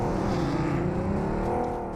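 A video game vehicle engine revs steadily at high pitch, loud and continuous with a smooth droning whine throughout and no talking.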